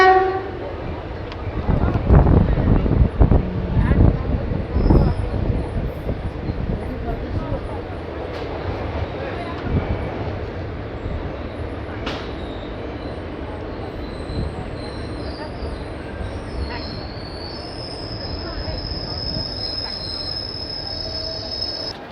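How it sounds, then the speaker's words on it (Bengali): The Katwa–Nimtita local passenger train rumbles into Murshidabad station with squealing wheels and clattering carriages, slowing to a steady hum, with high brake squeals and voices nearby. "দুপুর প্রায় দুটোর সময় ট্রেন এসে পৌঁছালো"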